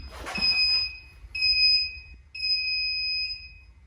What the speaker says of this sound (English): Little countdown timer, 5 seconds